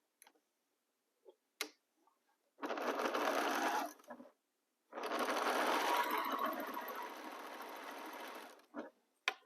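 A sewing machine stitches fabric in two sustained runs, each a few seconds long, with a brief pause between them and a few soft clicks around the edges; close and clear, with no talking.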